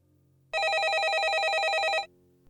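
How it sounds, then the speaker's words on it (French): An office telephone rings in one steady electronic trill lasting about a second and a half, clear and fairly close, then stops. "lorsque le téléphone de Jess résonnait dans le bureau"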